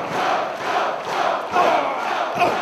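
A wrestling crowd roars in sustained cheers for Samoa Joe as he trades right hands with Morishima at a 2007 anniversary show, a dense continuous wall of noise that swells in waves.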